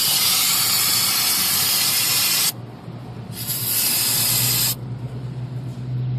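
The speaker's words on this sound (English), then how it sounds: "you'll just want to shake her up and just spray everything." Aerosol brake cleaner sprayed onto drum brake parts: a loud, close continuous hiss in two long bursts with a short pause between, then a quieter tail.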